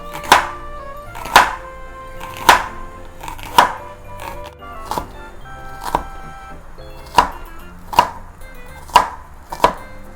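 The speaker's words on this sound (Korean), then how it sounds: "다음에는요, 양파를 잘게 썰 거예요" A knife finely chops an onion on a cutting board while a home cook prepares tomato pasta. About ten crisp, evenly spaced strikes sound close and clear over quiet, with no talking.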